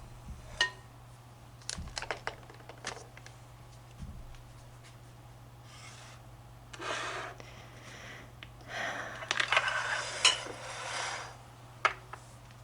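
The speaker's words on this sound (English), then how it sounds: "We'll be mixing it in a big bowl so you can fluff it up. And I'll use this wooden paddle." A wooden paddle works warm sushi rice in a big bowl, giving close, soft scattered taps and scrapes with a denser stretch of scraping partway through; no one speaks.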